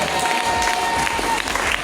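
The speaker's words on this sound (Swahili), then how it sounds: "Mpe Yesu makofi" A church congregation at an FPCT service claps and cheers in praise of Jesus. The applause is steady and fairly close, with voices calling out over it and a sustained tone running underneath.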